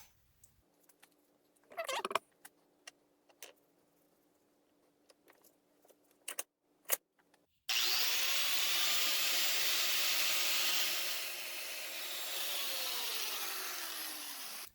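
An angle grinder cuts into the bar end of an Apollo City Pro 2022 scooter handlebar, starting abruptly after scattered clicks and tool handling, then a loud, sustained high whine with a descending tone as the disc bites.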